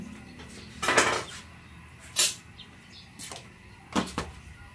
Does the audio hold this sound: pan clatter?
yes